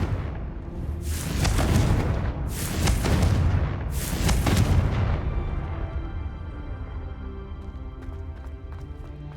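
Confringo spell blasts in the Hogwarts Legacy video game: three loud, booming explosions about a second apart, each trailing into rumbling debris, then fading into quieter game ambience.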